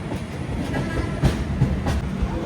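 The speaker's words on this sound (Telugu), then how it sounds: "ఇస్సార్ ఎక్స్ప్రెస్ ఇది సికింద్రాబాద్ టు ఇస్సార్ మెయింటెనెన్స్కి పోతుంది." An express train running from Secunderabad toward maintenance rumbles steadily nearby, with low rolling noise and a few soft wheel clacks over the rails.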